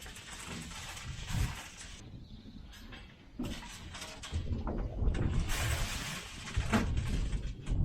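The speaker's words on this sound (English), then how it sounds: "We're gonna lube it, and hopefully that auger will swing back in." A freshly lubricated auger mechanism on a cattle farm swings back into place with a run of metallic clanks, ratcheting clicks and scraping, fairly close and uneven, with no talk over it.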